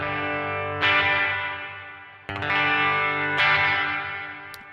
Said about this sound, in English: let's do some reverb.